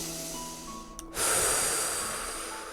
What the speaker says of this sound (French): Et la 3e respiration.